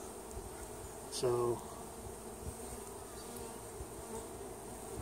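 Honey bees hum softly and steadily inside a hive during an inspection, a faint continuous drone with a brief louder buzz as one passes close, and a single spoken word.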